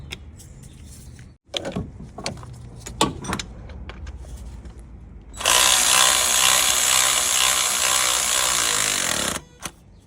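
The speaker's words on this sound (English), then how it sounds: "I'm going to tighten bottom 14mm nut" On a Toyota Auris alternator, a 14mm nut is tightened. A few sharp ratchet clicks and knocks come first, then a loud, steady power-tool whir runs for about four seconds before cutting off abruptly.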